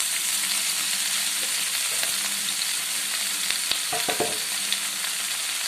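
Spinach fries and sizzles in a little oil in a pan as it is stirred, a steady crackling hiss with a few scraping stirs near the end.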